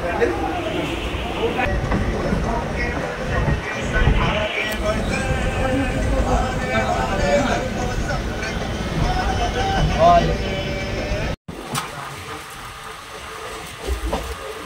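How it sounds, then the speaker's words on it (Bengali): A Bandel local commuter train in West Bengal, India, runs with a steady, loud rumble and hiss, voices murmuring underneath, and a brief cut near the end before the rumble resumes. "করেছি আমরা লোকাল ট্রেনে, ব্যান্ডেল লোকাল উঠলাম, বলো একটু পরেই ছাড়বে"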